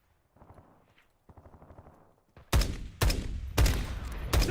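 Gunfire erupts in a video game battle: after soft footsteps, loud bursts of automatic fire crack in close, repeated volleys that fill the second half.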